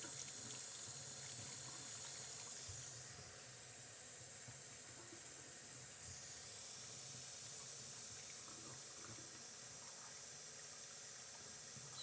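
Tap water runs steadily into a household sink at home while the temperature is adjusted, a continuous hiss and splash that briefly drops in level partway through before rising again.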